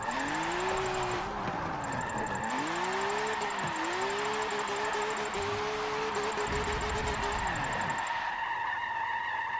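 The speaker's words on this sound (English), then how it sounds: "I know we're gonna be drifting inside the car because it sounds sick." A BMW race car in Forza 7 drifts with its engine revving up and down in sweeping waves, while the tires screech steadily underneath, loud and continuous.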